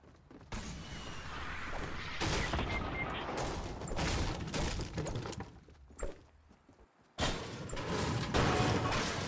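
Machine gun fire in Fortnite on PS4 during a squad match: dense, sustained bursts of loud rapid shots with mechanical clatter, briefly breaking off before another heavy volley resumes.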